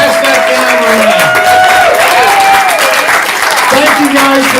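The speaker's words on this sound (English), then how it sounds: "Give them all a big round of applause." At a stand-up comedy student showcase, the crowd keeps up sustained, loud applause with some cheers mixed into the steady clapping. Voices talk over it throughout.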